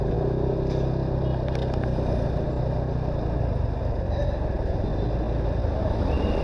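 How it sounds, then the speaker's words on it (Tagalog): Busy street traffic near a market, cars and motorcycles passing nonstop, forms a loud, steady engine rumble with a faint voice underneath. "tuloy-tuloy yung traffic dito"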